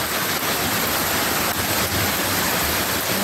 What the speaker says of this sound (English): water run from off the road and come right down in the yard